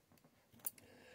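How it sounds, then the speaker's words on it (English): Scissors are picked up to cut a pad for an 8-track tape cartridge: a quiet few seconds of faint clicks and handling, then one sharp metallic snip near the middle. "Let's grab the scissors"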